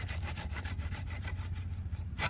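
A hand saw cuts through acacia wood in quick, rhythmic back-and-forth strokes, close and raspy, with about a dozen strokes before a brief pause.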